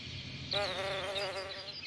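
A female bee with a black head and thorax and a ginger abdomen buzzes close by, a steady droning hum starting abruptly and continuing for about a second and a half over quiet outdoor background.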